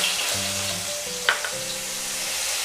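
Steady sizzling of sliced ginger frying in hot oil, continuous and close, with a faint clink partway through and a low hum beneath.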